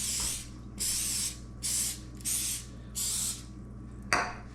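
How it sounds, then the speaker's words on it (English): Canola oil from a spray can misted over breaded chicken tenders, five even hissing bursts about a second apart, close and clear, followed by a brief clatter, with no talk. "I'm going to spray them with a little bit of oil."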